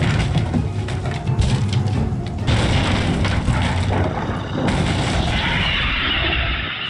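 A Depulso spell blast in a Harry Potter video game, a dense, loud booming impact with crashing rumble that continues throughout, dropping off at the end.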